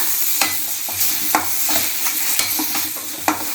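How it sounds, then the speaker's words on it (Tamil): Large-cut onions and tomatoes sauté in a pan for crab masala gravy, a soft sizzle under repeated stirring scrapes and knocks of the spoon, with no talking. "வெங்காயம் தக்காளிலாம் பெருசு பெருசாக கட் பண்ணி போட்டிருக்கேன். கொஞ்சம் வதக்கி விட்டுக்குங்க"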